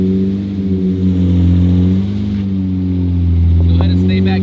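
A Lamborghini's engine hums and swells in a loud, steady low drone, revving gently as the car creeps onto a tow truck, with some faint voices in the background.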